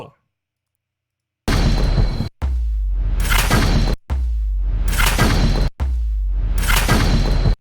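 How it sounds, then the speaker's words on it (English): A multi-stage gunshot sound effect from a sound-design demo reel fires four loud, dense bursts in a row. Each burst is separated by a brief cut to near-silence, and the sequence opens after a second of quiet. "It might just be a cool multi-stage gunshot."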